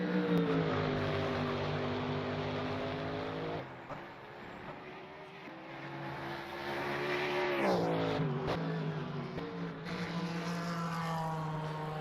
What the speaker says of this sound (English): Beautiful sounding Mercedes.